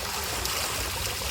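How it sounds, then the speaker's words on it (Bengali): Water pours steadily from a pipe onto a person bathing, a continuous close splashing trickle with no pauses. "জল এইভাবে পড়ছে একটা পাইপের মাধ্যমে"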